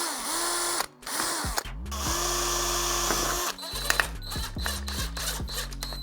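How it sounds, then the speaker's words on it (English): Power drill bores up into a windowsill from underneath, whining loudly with rising and falling motor pitch, stopping briefly and restarting in short bursts near the end. "I'm just pre-drilling this windowsill from underneath so I can fix it to this door."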